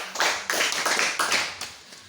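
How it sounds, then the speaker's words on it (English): A small group at a table tennis club quiz gives a brief round of clapping, a handful of loud close claps in quick bursts over about two seconds. "Let's clap for them."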